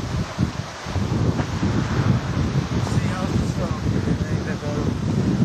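Strong wind buffets the microphone in a steady roar above Lake Elsinore, with heavy low rumbling gusts throughout and faint voices under the noise.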